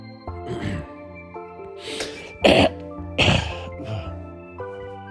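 One person coughs and clears their throat in a series of harsh, raspy bursts spread over five seconds, two louder hacks standing out in the middle, close to the microphone over a steady tonal background.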